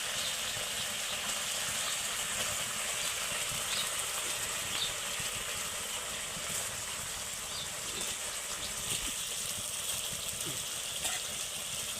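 Pointed gourd pieces frying in spiced oil, a steady dense crackling sizzle with faint scattered pops, heard close but fairly quiet and unbroken throughout.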